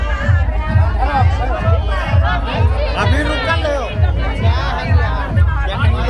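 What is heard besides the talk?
crowd chatter at a Tharu wedding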